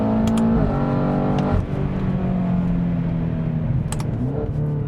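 A 2016 BMW X5M with a 567-horsepower engine pulls hard through the gears, its exhaust note climbing in pitch, dropping at a shift, then rising again, loud and close from inside the cabin.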